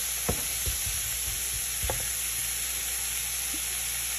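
Asparagus stir-frying in a pan, a steady bright sizzle that runs throughout, broken by a few sharp clinks and scrapes of the stirring utensil.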